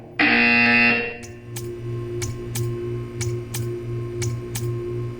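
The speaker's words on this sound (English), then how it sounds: "You will hear a buzzer. When you hear the buzzer, stare at the art." A loud electronic buzzer in the video game Portal 2, a single harsh sustained blast about a second long, followed by a steady background hum with faint regular ticking.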